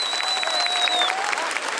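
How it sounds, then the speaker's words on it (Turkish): Dense, steady applause from an audience fills a stage event at a Kastamonu promotion day in Maltepe, Istanbul, holding at an even loudness for the whole stretch without a break. "Alkış bu kadar mı Allah aşkına?"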